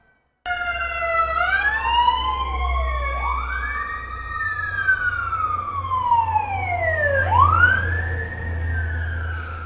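Several emergency vehicle sirens wail together, their overlapping rising and falling tones sweeping continuously over a low road rumble, loud and close for the whole stretch with no talking.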